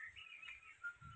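Birds chirp near an old open well in rural countryside, thin whistled calls sliding and repeating through a short quiet moment, fairly faint against soft background hum, with no voices.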